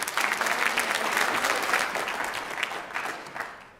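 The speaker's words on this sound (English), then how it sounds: "Let's give them a big round of applause." An audience at a grades 8-12 school band concert gives a warm round of applause, the clapping strong at first and then gradually thinning out.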